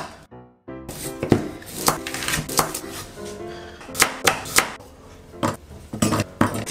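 An onion is coarsely chopped with a knife on a board, sharp irregular close knocks landing in quick bunches after a brief silence, several louder strikes standing out, with no talking.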